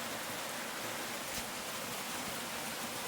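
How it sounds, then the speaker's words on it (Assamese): Rain falls outdoors during a run, making a soft, even hiss that stays constant and faint throughout with no voices. "এতিয়া ৰ'দ দি আছিল তাকো আকৌ বৰষুণ দিলে ইয়াত।"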